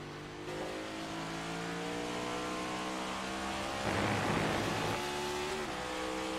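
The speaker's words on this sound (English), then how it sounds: "Can Steinhoff find his way around the 23 machine?" Race cars circle Watkins Glen in the iRacing sim during a Wheels America Cup Series event, a continuous engine drone with shifting pitches from several cars that swells briefly as one passes close, heard alone.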